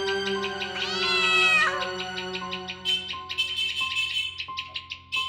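A cat lets out one long, drawn-out meow, followed by chirping birds and a steady high tone in the background.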